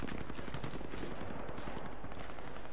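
A Sig Sauer 226 pistol fires in a rapid, dense string of gunshots that sound somewhat distant and subdued, with no speech over them.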